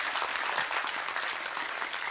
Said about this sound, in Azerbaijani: Alqışlar sizin üçün səslənir